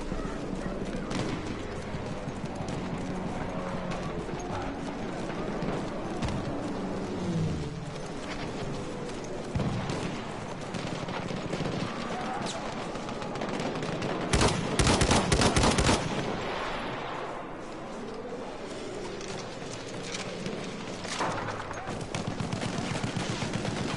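Battlefield 1 gunfire, bursts of rifle and machine-gun shots including a loud dense fusillade midway, mixed with galloping hooves, horse whinnies and battlefield noise.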